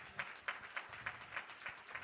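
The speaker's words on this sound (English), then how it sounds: "Let's give him a round of applause again to Bishop Dixon." An audience applauds at a live faith-themed evening event, a steady wash of clapping with regular swells, moderately loud and without talk over it.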